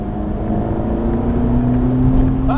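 Engine of a 2015 Ferrari 458 Speciale Aperta accelerating from low RPM, a loud, grumbly drone that climbs steadily in pitch from inside the car, with no talk.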